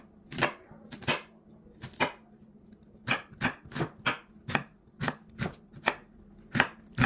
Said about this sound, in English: Now I'll go ahead and slice my onion.